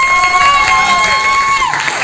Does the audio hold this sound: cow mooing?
no